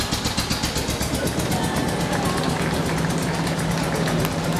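A tractor engine chugs in a festival parade, close and loud, with a steady rapid rhythmic pulsing that runs throughout at an even pace.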